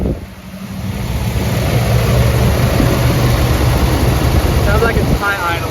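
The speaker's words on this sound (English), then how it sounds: "Sounds like it's high idling." A 1979 Ford F-150 SuperCab pickup engine high idles steadily at a fast, even rumble, loud and close, with faint chirping sounds near the end.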